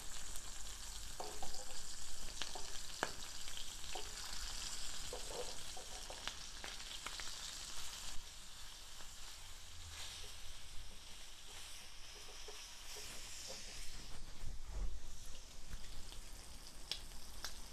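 Prawns fry in a pan on the stove with a steady, dense sizzle that runs throughout, broken now and then by soft crackles and scraping stirs, close and fairly loud with no talking.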